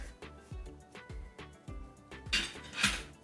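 Metal lid set onto a pot of mustard greens cooking with garlic, a few soft clinks and a brighter clatter near the end, amid low kitchen thumps.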